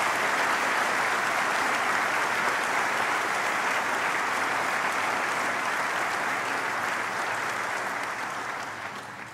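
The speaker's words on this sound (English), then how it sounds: "I wonder if we can just give all of them a round of applause for bringing us this" A large audience at an NTU Class of 2020 graduation ceremony applauds in a dense, even roar of clapping that holds steady for several seconds, then tapers off at the end.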